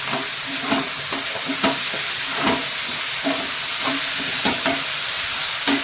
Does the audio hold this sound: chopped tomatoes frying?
yes